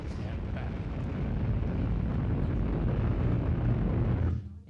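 A Falcon 9 rocket launch roars in a steady, dense, rumbling blast of low thunder that holds for several seconds, then cuts off abruptly.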